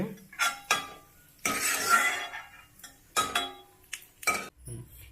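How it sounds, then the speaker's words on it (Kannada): Fried vermicelli for shavige payasa is scooped from a pan into a small bowl, with several sharp clinks and scrapes of a metal utensil against cookware in irregular bursts, close by. "ತೆಗಿತೀನಿ ಈಗ ಸಣ್ಣದೊಂದು ಬಟ್ಲಕ್ಕೆ ಹಾಕ್ಕೊಂತೀನಿ"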